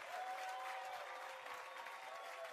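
Audience applause from a talk-show studio crowd, a sustained wash of clapping that holds steady at moderate distance without speech.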